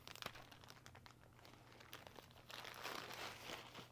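Close, quiet crinkling of a plastic bag holding a mosquito net, with scattered crackles that thicken into a rustling handful near the end.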